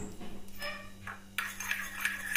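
A spoon stirring tomato sauce and green paste in a metal bowl or pan gives scattered metallic scrapes and clinks, sparse at first and then busier and steadier over a low background hum.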